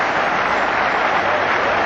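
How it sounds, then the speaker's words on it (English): Cricket crowd at a one-day international between India and England breaking into steady, dense applause after Virender Sehwag's dismissal, a loud continuous wash of clapping with no gaps. "Now the applause starts."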